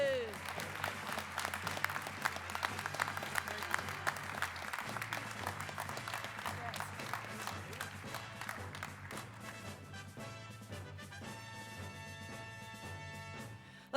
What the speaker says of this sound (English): Let's give a big round of applause for our Country Radio Hall of Fame on-air inductees.